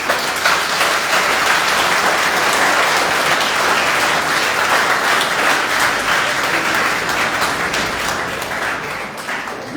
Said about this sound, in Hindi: दोनों हाथ उठा करके उन सब के लिए तालियां लगा दीजिए।